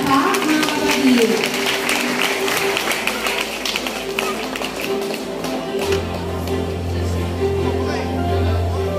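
An audience at a church gathering applauds steadily throughout. A loud voice talks over the clapping and a low hum swells near the end.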